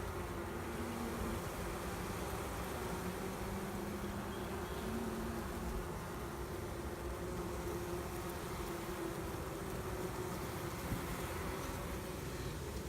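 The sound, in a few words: honeybees buzzing loudly inside a hive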